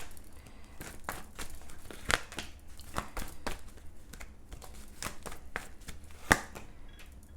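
Tarot cards are shuffled close by, a soft run of flicking, riffling rustles with a couple of sharper snaps, quiet and without talk.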